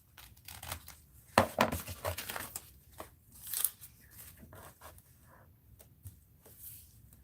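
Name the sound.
scissors cutting fabric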